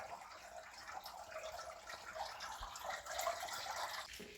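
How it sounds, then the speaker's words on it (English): Faint, steady running water trickles inside a partly flooded tunnel beneath an abandoned site at Hounslow Heath, a quiet continuous wash with no voices. "I hear running water at this bit."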